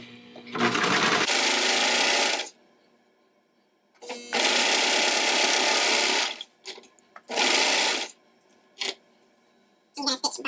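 A sewing machine stitches a t-shirt dress in three loud, steady bursts of about two seconds each, with short quiet gaps and a few brief clicks between them.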